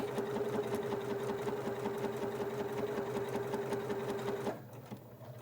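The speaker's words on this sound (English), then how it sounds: "I'm going to repeat the step of back stitching and go off of my fabric." A sewing machine back stitching and running off the end of a piece of fabric; a close, steady, rapid mechanical hum with a fast stitching rhythm, stopping abruptly near the end and leaving faint handling noise.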